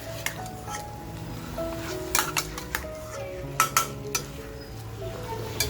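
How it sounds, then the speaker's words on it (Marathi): Chicken frying in a pan while being stirred, with a steady soft sizzle and repeated clinks and scrapes of a spoon against the pan, close and unhurried. "चिकनचं बघा आपल्याला कलर चेंज होईपर्यंत असं मस्त फ्राय करून घ्यायचे."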